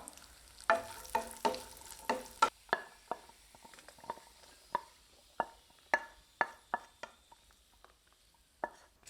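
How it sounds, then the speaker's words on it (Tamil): Cashews and raisins frying in a pan make quiet, rhythmic clicks and taps as they are stirred, a steady run of sharp strikes over a faint background. "முந்திரி பருப்பு லேசாக வறுபடட்டும் இது கூடவே உலர்ந்த திராட்சை கருக விட்டுறாமல் பார்த்துக்கணும்"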